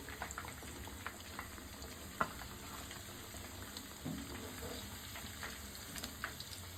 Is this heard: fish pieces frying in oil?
yes